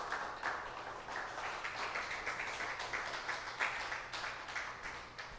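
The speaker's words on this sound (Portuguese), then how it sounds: "Aplausos para ti," A church congregation applauds during a Sunday sermon, giving a dense, steady patter of many hands clapping at moderate distance, sustained for several seconds with no voice over it.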